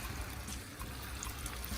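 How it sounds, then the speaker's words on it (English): Water poured in a thin, steady trickle into a pot of Jamaican brown stew chicken, a soft continuous splash lasting under two seconds with no voices. "I'm going to add a little bit of water to this."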